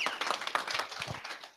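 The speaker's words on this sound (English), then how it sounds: "give him a big round of applause, guys" A meetup audience gives a short round of applause, scattered hand claps at moderate distance fading out after about a second, with a faint voice under it.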